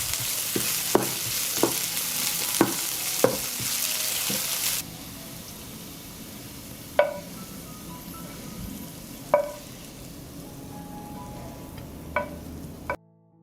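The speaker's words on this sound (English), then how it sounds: "I will fry the onion in hot oil." Sliced onion frying in hot oil, a continuous sizzle broken by sharp utensil knocks and scrapes at irregular intervals, loud at first then quieter.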